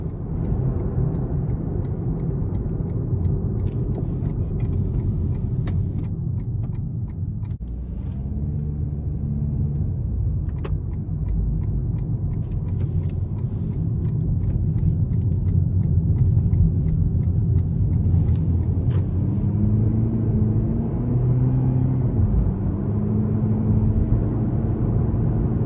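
Steady low road noise from inside a moving 2019 Lexus UX 200 in eco mode, a constant rumble and hum with the engine tone shifting slightly as it drives.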